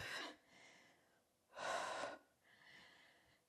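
Three close, audible breaths come during a resistance-band lower-body workout: a sharp gasp, a longer heavy exhale, then a softer breath, each separated by short pauses.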